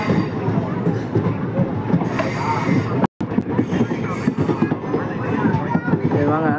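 A train on the Tirupati Express route passing nearby, a continuous rumbling rush with wheel clatter and faint squeal, a voice talking over it and a brief dropout midway.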